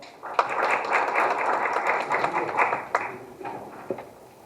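Dense audience applause at a town hall meeting on Daejeon's second tram line, welcoming a city tram construction team leader to the stage; steady and full for several seconds, then thinning into a few scattered claps.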